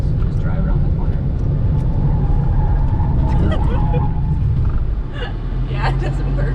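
Inside a race car at drag racing school, a loud, steady engine rumble holds through a cornering manoeuvre, with rattling cabin noises and an occasional sharp click over it.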